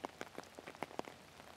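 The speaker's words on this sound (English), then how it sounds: "Try to soak in the invigorating effect of the rain, even though it's just on camera." Steady rain patters on a surface in a yoga setting, soft uneven drops and small splashes coming close together at a low, fairly faint level, with no voices.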